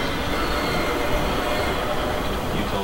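A train rumbles steadily past in a continuous roar of wheels and rail noise, loud and close throughout, with faint talk underneath.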